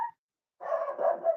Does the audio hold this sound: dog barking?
yes